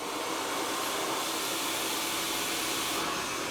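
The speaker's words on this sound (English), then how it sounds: "So get that in your hairdryer and we'll go again" A hair dryer blows in a steady, loud, unbroken rush of air throughout, used for a step-by-step home blow-dry with no voices.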